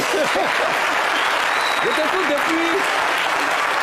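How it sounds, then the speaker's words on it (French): A studio audience applauds during an interview, a dense steady wash of clapping heard close and loud, with a voice speaking over it throughout. "Vous voulez applaudir, applaudissez."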